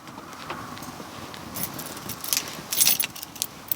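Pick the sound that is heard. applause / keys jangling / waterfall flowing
keys jangling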